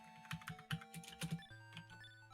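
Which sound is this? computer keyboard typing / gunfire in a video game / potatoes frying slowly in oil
computer keyboard typing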